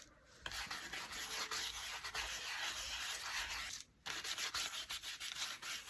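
Dixie Belle Best Dang Wax being rubbed over a cardboard butterfly gives a steady, close, dry rubbing and scuffing that runs continuously, with one brief pause near the end.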